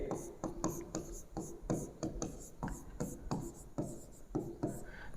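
Marker or chalk strokes scrape across a classroom board in short, irregular bursts, close and fairly loud, during a physics lesson on light reflection.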